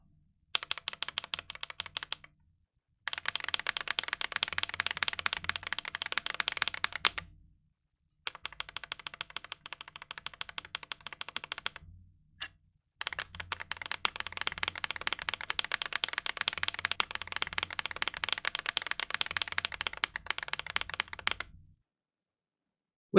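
Typing on a keyboard fitted with dk ONI switches, first stock and then lubed, in several bursts of rapid, close clacking separated by short silences.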